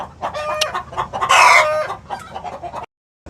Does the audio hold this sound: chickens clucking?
yes